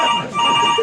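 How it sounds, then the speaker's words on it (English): An incoming phone call rings loudly and close with a steady electronic ringtone made of sustained layered tones that hold through the whole short burst. "Phone call coming in."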